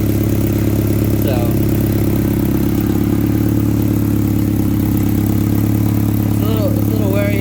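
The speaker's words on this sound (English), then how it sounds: "I got the idle to come down just a little bit" The engine of a 1996 Honda CR-V idles with a steady, loud, even rumble that holds unchanged throughout, with faint brief squeaks on top.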